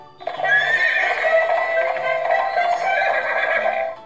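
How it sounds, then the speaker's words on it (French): Electronic horse neigh and whinny from a talking Dora the Explorer toy backpack, one long bright whinny lasting several seconds and loud against a quiet background. "Yes, the horse va nous emmener en galopant à toute vitesse."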